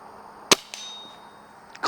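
Pellet from a Umarex Synergis Elite air rifle striking a large metal gong outdoors: a sharp single impact with a brief ringing metallic tail, followed by fainter clicks and another short hit.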